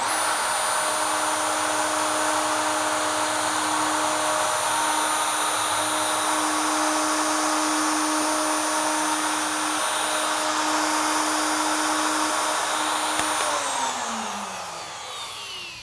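A wood router cuts a hinge recess with a loud, steady high-pitched whine that holds for most of the stretch, then winds down at the end.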